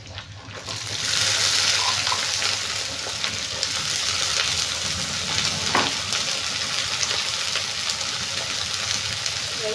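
Chopped onions hit a hot oiled pan with curry leaves already in it, setting off a steady broadband sizzle that lasts throughout, with a brief clatter of stirring midway and no talking.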